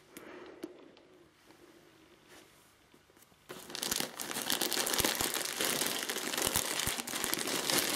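Crinkling and tearing of plastic packaging as a 14-inch Knuckles plush toy is unwrapped after cutting with scissors: quiet rustles at first, then loud, continuous close crackling.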